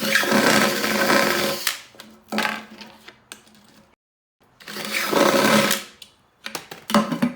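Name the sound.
drill boring through holes in a metal paint can with thicker bit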